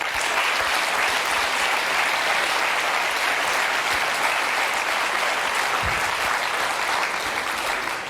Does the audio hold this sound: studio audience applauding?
yes